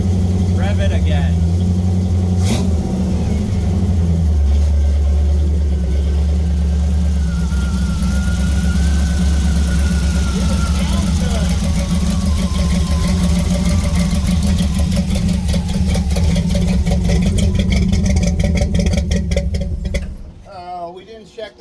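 A 1936 Oldsmobile engine running steadily with a deep, rough idle, then revved as pitch rises and falls, before cutting off at the end; voices talk over it.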